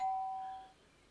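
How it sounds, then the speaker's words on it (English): A doorbell in the video game Danganronpa Mauve gives a single clear electronic chime that rings out and fades away, heard alone. "The doorbell rings."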